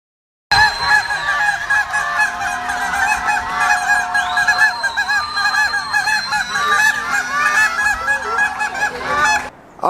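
A large flock of geese honks continuously and loudly, many overlapping calls close and far, with no break over the whole stretch.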